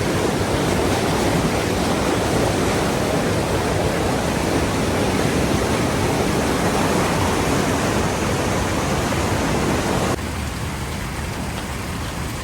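Powerful rushing water, a dense, constant roar close by that fills the whole scene without a break, dropping slightly in level near the end.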